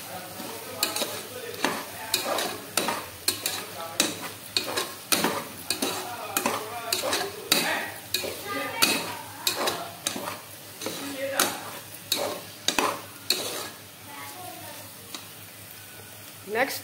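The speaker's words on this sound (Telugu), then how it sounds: "ఇప్పుడు నెక్స్ట్ దీనిలో మీల్ మేకర్ అయితే యాడ్ చేసుకొని ఒకసారి బాగా ఫ్రై చేసుకోవాలి" Meal maker soya chunks frying in oil with gongura, stirred in a pan with repeated scraping and clatter over a steady sizzle, close and moderately loud, with no one speaking.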